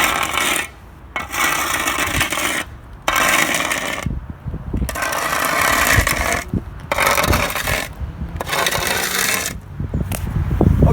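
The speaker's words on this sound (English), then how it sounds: "so now that everything's scraped and edged" Rasping scrape of a rake or shovel working the edges of a fresh asphalt speed bump outdoors, loud and close in repeated long strokes separated by brief pauses, with no talk.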